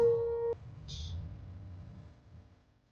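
A telephone busy signal from a horror video game sounds as a steady tone that cuts off abruptly, followed by faint low background ambience.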